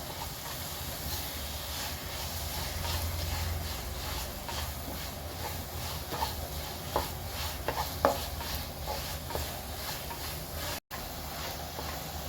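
Sesame seeds stirred into ripe plantains cooked in ghee in a pan, with a continuous soft sizzle under repeated light scraping strokes of a spoon, close and steady, with no voices.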